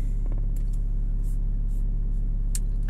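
A BMW E60 with the M57 diesel engine idles steadily right after a cold start, giving a continuous low rumbling drone with a few faint higher clicks and taps over it.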